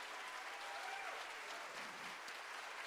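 A wide wash of audience applause fills a church hall during a town hall meeting, even and continuous but rather quiet and distant throughout.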